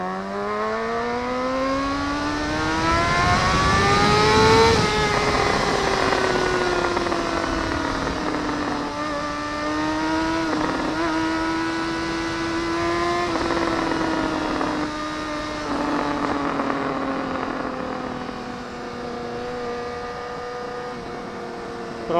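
A Honda CBR 600RR motorcycle with a Yoshimura exhaust accelerates hard from onboard, its loud engine wailing upward in pitch, easing between gear changes and climbing again.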